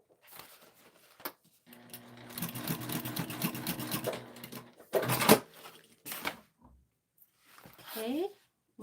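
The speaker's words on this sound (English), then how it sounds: "We're going to flip it and sew the other side." A sewing machine stitches through a clear vinyl tote in short bursts of rapid mechanical chatter, close by, broken by handling clatter and pauses, with people talking in between.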